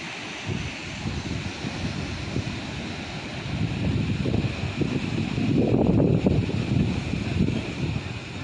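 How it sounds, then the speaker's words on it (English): Indian Ocean surf near Durban's Ushaka Pier in South Africa, a steady low roar of breaking waves with wind buffeting the microphone, swelling louder toward the end. "This is the Indian Ocean."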